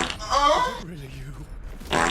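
A comical fart sound effect plays loud and close over voice chat, a short blaring burst followed by a lower wobbling tail, then another brief burst.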